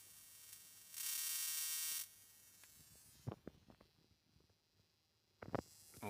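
A Tesla coil's electric arc, a spark gap of about 5 to 7 millimetres, crackles as one loud, steady buzzing burst lasting about a second, followed by scattered clicks and handling knocks.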